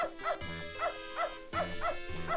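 A dog in the video game Beneath a Steel Sky barks repeatedly in quick bursts, a rhythmic run of yelping barks over a steady musical background, fairly close and clear.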